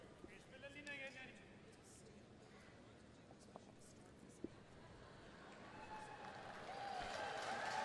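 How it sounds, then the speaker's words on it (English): Canadian fans in a curling arena crowd at a men's world championship playoff cheer and chant in the background, a low, distant crowd murmur swelling toward the end beneath commentary-level talk. "Be hearing them in the background cheering out and spelling out Canada as they have throughout the week"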